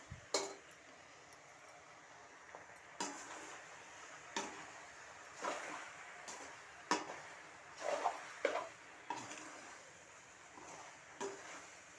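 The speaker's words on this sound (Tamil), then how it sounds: "கிளறி விடுவோம்." Pasta being stirred in a cooking pan, with faint scattered clinks and taps of a utensil against the pan recurring every second or two against a quiet background.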